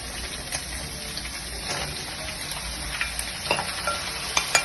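Onion is tipped into a pan of meat frying with tomato and vinegar, bringing a soft sizzle with wet stirring and scraping that sharpens into clicks and pops toward the end.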